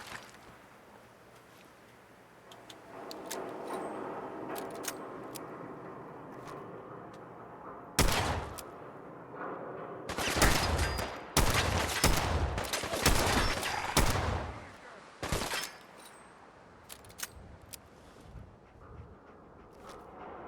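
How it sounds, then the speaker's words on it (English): Revolver rifle shots in the modded video game Fallout 4, with a quieter stretch first, then a cluster of loud, sharp gunshots in the middle and a few scattered single shots afterward. "It's a rifle, it says. It's not a shotgun. Revolver rifle."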